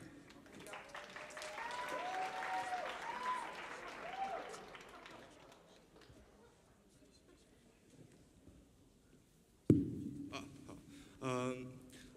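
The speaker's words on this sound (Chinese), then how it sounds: "好，让我们再次给掌声给 Brian。" Audience applause at a Berklee Lunar New Year concert, moderate clapping that fades out after a few seconds, followed by quiet room noise and a brief clunk and voice near the end.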